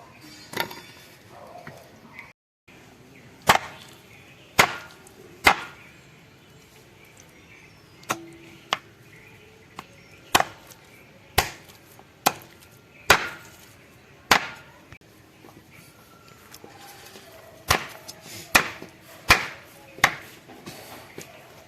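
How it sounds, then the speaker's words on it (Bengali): A knife hacks a whole skin-on chicken into pieces for a Bengali curry, sharp heavy chops landing at uneven intervals, close and loud against quiet kitchen background, with a brief murmur of voice at times. "বন্ধুরা এবার মাংসটাকে কেটে নেবো পিস পিস করে"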